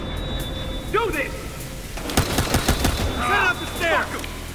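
Bursts of gunfire from a shootout outside a downtown hotel in the video game Battlefield: Hardline, with sharp cracks and rapid shots clustered in the middle of the clip, while voices shout before and after the firing.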